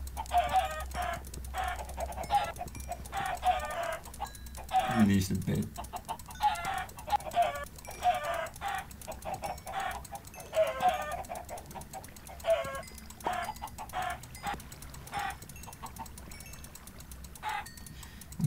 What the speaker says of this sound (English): First I'm going to kill the chickens.